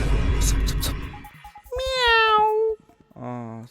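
A cat gives two drawn-out, wavering meows up close, the first longer and louder, after a stretch of loud, noisy talk.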